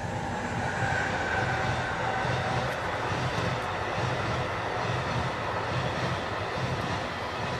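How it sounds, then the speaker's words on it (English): A train runs straight through a station without stopping, heading for Boston, giving a steady, loud, continuous rumble with rolling low-end roar throughout and no speech over it. "That's the train"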